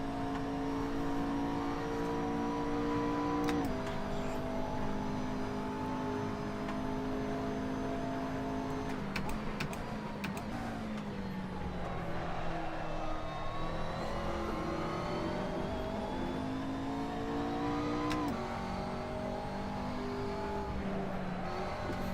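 GT3 race car engine in Assetto Corsa, online ranked racing: a loud, continuous engine note that climbs in pitch, drops sharply at each upshift, then climbs again, steady throughout with no talk.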